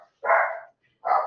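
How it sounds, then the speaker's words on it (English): A dog barks twice in the background, two short, fairly loud woofs separated by a brief pause. "Sorry about the barking in the background."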